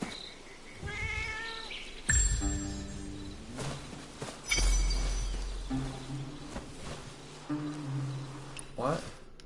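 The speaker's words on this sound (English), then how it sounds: "Oh boy, kitty cat again." Several short meows from a cat in the video game Where Winds Meet, with tonal harmonic calls rising and falling, mixed with game music and someone talking over them.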